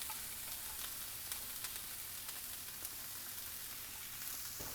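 Corn kernels frying in a pan for Mexican street corn, a continuous quiet sizzle with faint crackles and pops throughout, no talking.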